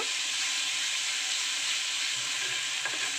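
Spices for an egg kebab curry fry in hot oil with a steady, close sizzle and hiss, the crackle holding constant with faint stirring scrapes and no talking.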